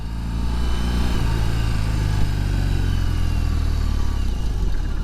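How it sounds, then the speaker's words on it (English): A 2021 BMW R 18 motorcycle with an 1800 cc engine drones loud and close in a steady, continuous rumble, holding an even pitch throughout with no voices. "BMW R18. How about it? 1800 cc. 1800 cc's of soul satisfying German power."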